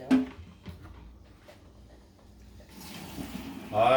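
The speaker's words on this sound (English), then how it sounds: "I had a measuring cup underneath the colander, and we just poured us up over a cup of this juice, water, whatever." Hot pasta water pours through a colander into a measuring cup, a brief splashing gush that swells near the end after soft kitchen clatter.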